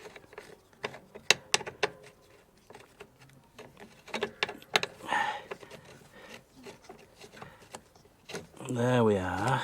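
A pedal being screwed onto an EleGlide Mi Plus electric bike, heard as scattered clicks and ratcheting metallic ticks with rustling, while a person talks intermittently.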